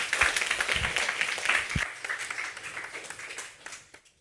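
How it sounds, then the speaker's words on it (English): An audience at a debate event gives a round of applause, the clapping strong at first, then thinning out and fading away toward the end. "let's give a round of applause for everyone."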